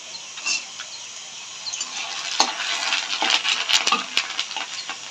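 Papad fries in hot oil with a bright crackling sizzle that swells after a quiet start, close, with a few sharp pops and clinks over it.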